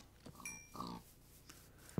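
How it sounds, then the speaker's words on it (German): Pigs oinking in the Minecraft game, short faint grunts scattered across a quiet jungle scene, with a couple of soft snorts and a brief louder thump near the end. "Ey, Schweine, wir haben hier so viele Schweine."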